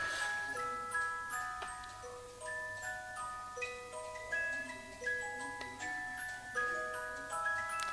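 A cuckoo clock ticks in a steady, even rhythm alongside ringing melodic tones, moderately quiet, with no voices.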